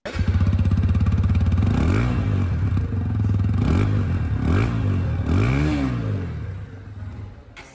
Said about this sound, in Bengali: এবার এক্সস্ট নোট চেক করা যাক।